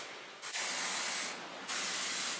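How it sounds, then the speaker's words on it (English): Extra virgin olive oil is sprayed over raw chicken breasts in two short, close hissing bursts with a brief pause between them. "And of course, I'm gonna spray the top."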